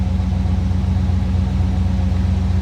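A 1988 Chevrolet Monte Carlo SS idles steadily with a low, even dual-exhaust rumble, close by and unchanging.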